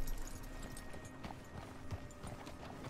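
Horse hooves clip-clopping in Red Dead Redemption 2, a quiet, steady rhythm of hoofbeats over a low ambient bed, with no talk.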